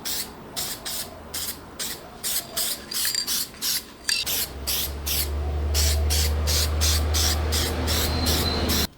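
Spray paint being applied to bar stool parts built from car parts, in repeated short hissing bursts that later become one long continuous spray, close and loud, with no talking.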